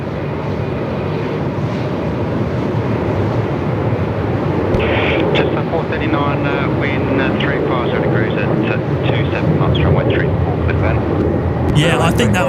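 Singapore Airlines airliner engines spool up at Melbourne Airport in strong 45-knot winds, a steady, loud broadband roar mixed with wind buffeting on the microphone, with voices talking over it.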